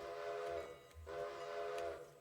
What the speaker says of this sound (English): Ring the bell, blow the whistle,